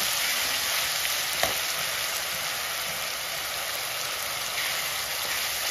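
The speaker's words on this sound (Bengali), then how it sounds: "পেঁয়াজ আর অল্প একটু আদা এর সাথে আমি পেস্ট করে রেখেছি, পরিমাণ মতো আমি দিয়ে দেব।" Onion and ginger paste going into hot oil for a Bengali doi rui fish curry, making a loud, continuous dense sizzle that holds steady throughout with one brief knock.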